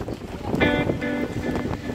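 A boat sits out on open water in Croatia, with steady wind noise buffeting the microphone and a low motor-like hum underneath; brief tonal sounds in the background, no talk.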